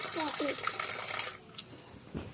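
Water gushes steadily from a tap, then stops abruptly as the tap is turned off, leaving a quiet room with a few faint knocks and a voice briefly audible.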